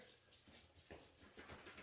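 A dog whimpers indoors in a series of short, faint, high whines and yips repeating irregularly, close but quiet, with no speech over it.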